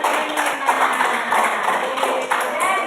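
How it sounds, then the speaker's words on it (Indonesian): Students in a classroom clap together, a quick uneven run of hand claps close by, fairly loud, with faint murmuring underneath. "Ya, tepuk tangan."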